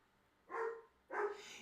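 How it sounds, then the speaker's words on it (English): A dog barks twice in the background, two short muffled woofs about half a second apart, fairly faint and with no talking over them. "you're hearing my dog in the background"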